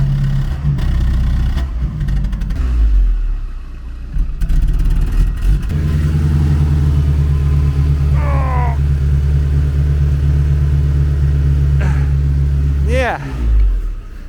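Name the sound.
old car engine running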